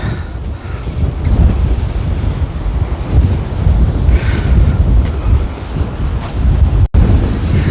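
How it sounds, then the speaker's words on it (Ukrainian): Heavy wind buffets the microphone in a constant low roar on the Odesa seafront, with gusting rumble throughout and a brief dropout near the end. "дуже сильний вітер"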